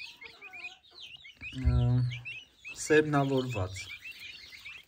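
Young turkey chicks peep in quick, high chirps close by, repeating steadily while someone talks over them in the foreground.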